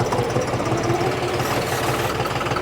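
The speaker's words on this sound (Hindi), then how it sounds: "अब यहाँ से मैं करता हूँ ट्रैक्टर को बैक" John Deere 705 tractor engine reversing in a field, a steady, loud diesel chug with a regular knocking pulse close by, no voices over it.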